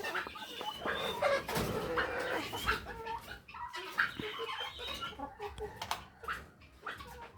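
Naked-neck chickens and layer hens in a coop clucking and squawking busily at close range, with overlapping calls and rustling throughout.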